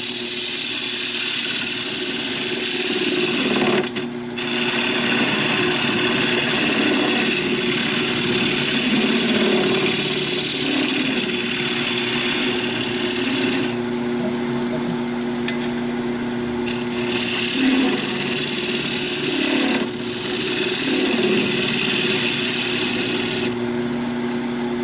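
A wood lathe spins a cherry and walnut segmented bowl with a steady, loud motor hum and whine while a tool cuts a dovetail, the tone dipping briefly a few times as the cut changes.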